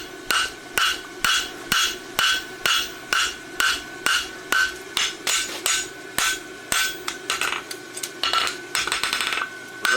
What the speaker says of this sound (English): I'm hitting out in front of the horn. I'm not hitting directly on top of it to forge